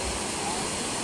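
Constant broadband rush of a fast-flowing, cold river, loud and close, with no breaks across the short stretch.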